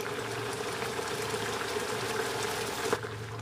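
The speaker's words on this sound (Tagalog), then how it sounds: "Takpan uli, pakuluan hanggang mag-reduce ang sauce." Squid adobo in coconut milk simmering in a covered pot, a soft, continuous bubbling and gentle liquid burble with a low steady hum underneath, faint and close, ending with a small clink.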